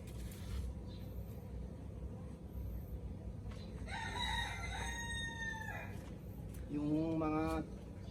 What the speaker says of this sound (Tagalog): Yung mga alaga naming manok, tumitilaok na.